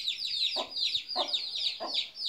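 Hens and a handful of young chicks at a home: rapid high peeping chirps run continuously while three throaty clucks land at regular intervals, close and fairly loud.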